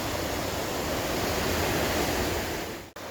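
A river runs full and fast below a forest hiking trail near a footbridge over Lester Creek, giving a loud, continuous roar of rushing water that ends in a brief cut near the close, with no voices.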